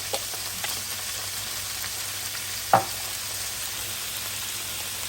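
Banana prawns with ginger and garlic fry in a pan with a steady, close sizzle and crackle, broken by one brief louder tap partway through.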